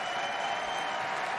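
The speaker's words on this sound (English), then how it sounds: "Crowd loves it here in Las Vegas, showing respect for two ladies that are busting their backsides in a pro wrestling match." A wrestling crowd in Las Vegas applauds steadily at a pro wrestling pay-per-view, a dense wash of clapping that holds level throughout with no pauses.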